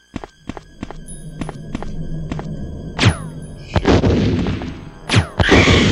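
Gunfire in the Resident Evil video game: a series of sharp, evenly spaced shots, then a few louder, heavier blasts with ringing tails, close and with no one talking over them.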